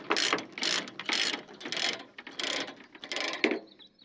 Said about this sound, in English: I got a chain hooked up to the machine, I hook it up, and then I just ratchet it